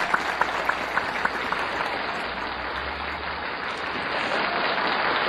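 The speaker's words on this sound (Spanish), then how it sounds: "Fuerte los aplausos, por favor" An audience at a poetry tribute applauds a poet's son, a broad, even roar of clapping from a large crowd that holds steady and swells slightly toward the end, with a few sharper claps near the start.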